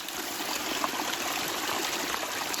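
Water trickles steadily in a small backcountry stream during a February backpacking trip while a bottle is filled, a close, continuous babbling and splashing with no voices over it.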